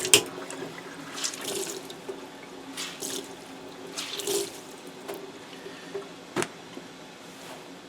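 Tap water runs steadily over a discharged tie-dye tee being rinsed in a sink, with splashes and drips rising irregularly above the flow at close range.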